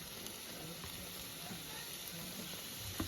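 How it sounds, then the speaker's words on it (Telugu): Chopped tomato hits the pan while gongura and coconut chutney cooks with tamarind, giving a soft, steady sizzle throughout, faint and close, with a light knock near the end. "ఒక్క చిన్న టమాటా కూడా వేసుకుందాను, ముక్కలు చేసి వేసుకుందాం."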